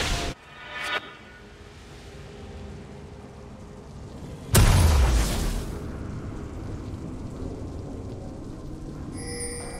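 A turret explodes in League of Legends with a sudden loud burst and deep rumbling boom that decays over about a second, followed by a lingering hiss of game ambience.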